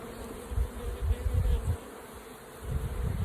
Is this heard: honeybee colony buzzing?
yes